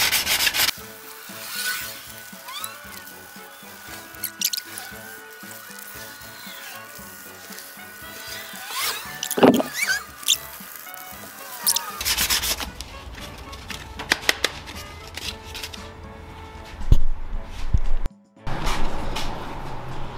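Someone hand-sands rust repairs on the side sill of a Mazda Roadster, which has been ground down and filled with putty. The rubbing scrape runs steadily and close, then shifts to harder, louder strokes with brief knocks near the end.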